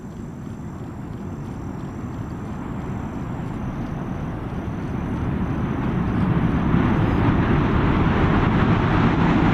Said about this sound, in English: We have ignition and liftoff.